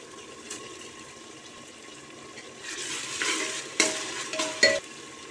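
Tomatoes being sautéed with salt in a pan for ghee rice make a steady soft sizzle, and a spoon stirring scrapes in louder bursts near the end.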